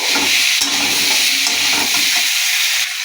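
Spice paste of cumin, ginger, chili and garlic frying in a pan, a steady close sizzle with a few scrapes of stirring, no talk.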